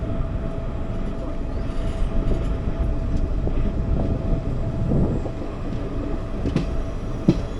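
A Yesvantpur–Shivamogga Town train passes along the railway line, a steady loud rumble of wheels and carriages throughout, with occasional sharper rail clanks and squeals.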